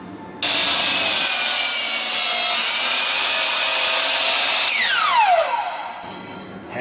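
Power saw cutting aromatic cedar log pieces at a 15-degree angle, one loud continuous close cut with a rising whine that winds down as the blade slows.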